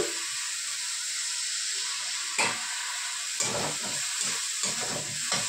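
Mustard paste frying in a pan while being stirred, a constant hissing sizzle close by, broken by soft scraping strokes of the spoon.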